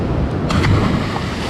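Sea waves wash onto a beach in Cyprus as a steady, close broadband roar of surf, mixed with wind buffeting the microphone. No voices are heard.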